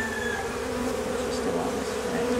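Steady, dense buzzing of many honeybees close up in a hive, a continuous droning hum with no talking.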